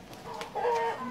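A black and golden desi rooster on a farm gives a short run of soft clucks that rise into a brief, nasal crow-like call, fairly close and alone.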